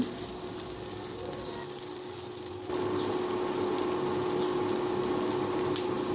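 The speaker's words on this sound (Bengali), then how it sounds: "পেঁয়াজ কুচি কাঁচামরিচ সব কিছু একটু ভালোভাবে ভেজে নেব" Chopped onion and green chillies with bay leaf and dried red chilli sizzle steadily in hot oil, a continuous close frying hiss that grows slightly louder partway through, with no talking.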